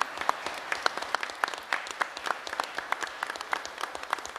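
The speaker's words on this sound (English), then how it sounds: "so let's give them a round of applause." An audience at an event run by MCTV volunteers breaks into a steady round of applause, dense overlapping claps at a moderate distance with no talking.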